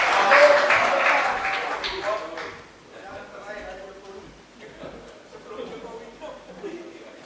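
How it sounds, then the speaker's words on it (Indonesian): Audience applause after a speech at a student gathering, loud at first and then thinning out, with talk and scattered claps continuing underneath. "boleh kita tepuk tangan sekali lagi untuk Bapak Said Didu"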